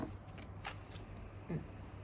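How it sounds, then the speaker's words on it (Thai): Tarot cards being gathered up and shuffled together on a table, soft papery slides and flicks, quiet and close with a faint low hum beneath. "ขอเก็บไพ่ก่อนนะคะว่าเราใช้ไปแล้วนะ"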